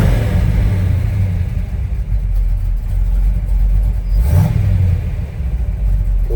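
A 1952 Ford F-1 pickup with a 350 V8 runs at a steady, loud low rumble, idling evenly with a brief rise partway through and no talk over it.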